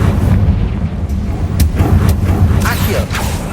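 A Confringo fire-spell blast in the Hogwarts Legacy video game: deep rumbling booms with sharp bursts cutting through, dense and loud across the whole moment.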